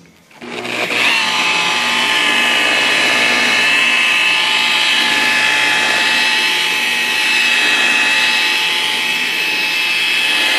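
A machine polisher buffs car paint during a first-stage correction pass for swirl marks and spider webbing, a loud steady motor whine that spins up after a second and holds continuously throughout.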